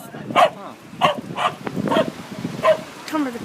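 Dogs from a large street parade of about 250 dogs bark and yip in a series of short, fairly close calls, roughly one every half second, with some talk mixed in.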